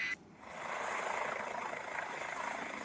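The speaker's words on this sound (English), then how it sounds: "This is a helicopter." A helicopter's steady whirring drone holds evenly for a few seconds, faint and somewhat distant, with a soft rhythmic pulse from the rotor blades.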